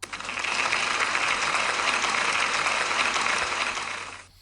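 Sustained applause from a school assembly crowd of children and staff, a dense, even patter of clapping that holds steady for about four seconds before tapering off.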